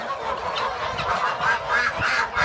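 Sussex chickens in a coop at a late hour, kept apart from the chicks: continuous close, noisy squawking and clucking from several birds, rising and falling without pause.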